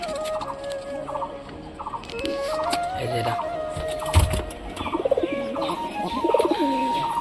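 Giribaz pigeons, including young birds, coo repeatedly in a home enclosure, with soft overlapping calls and other fowl or birds audible around them at moderate distance.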